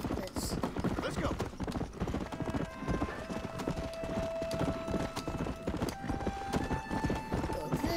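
Rapid, steady hoofbeats of a fast horse galloping in the Western video game Red Dead, pounding close and loud throughout, with a faint whinny and game music tones layered over the rhythm.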